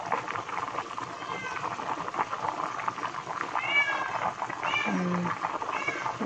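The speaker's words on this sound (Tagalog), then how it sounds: "Yung pusa namin umiiyak." A house cat meows and cries repeatedly in a kitchen while macaroni with broth is being cooked, its rising calls cutting through steady background noise, with people talking nearby.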